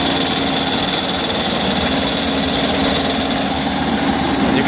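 A hovercraft engine warming up, a loud, steady close idle drone with constant vibration and no talk.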